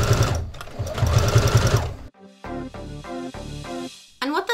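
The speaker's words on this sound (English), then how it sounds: "The highest stitch length I have on my sewing machine is a stitch length of 5." A sewing machine runs long basting stitches at its longest stitch length on a shark stocking, whirring loud and close in a sustained burst, pausing, then stitching again in short rhythmic runs.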